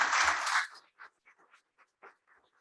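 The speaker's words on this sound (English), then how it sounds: "I would like a huge round of applause to all of the volunteers" A brief, dense burst of audience applause at a 20th-anniversary NEPOMAK session for its volunteers fades out within a second, followed by scattered faint fragments of a voice.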